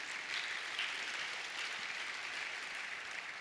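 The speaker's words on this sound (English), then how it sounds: "I want us to give a round of applause to our distinguished fellows" Applause from the audience at a medical college convocation ceremony, with even, continuous clapping that sounds soft and somewhat distant from start to finish.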